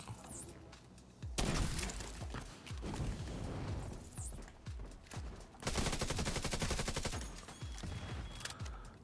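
Turret gunfire in The Division 2, with sustained automatic bursts and rapid shots crackling in repeated waves, loud and close, mixed with impacts and shattering.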